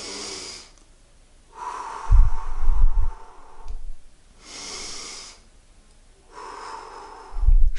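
Slow, deep belly breaths taken with eyes closed, each long airy inhale and exhale rising and falling in a steady cycle, close and clear with no talking.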